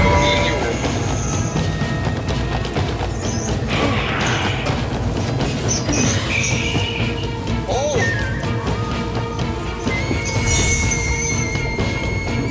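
Loud, continuous rumble and clatter of a moving train, with metallic squeals and screeches rising over the noise and voices faintly mixed in.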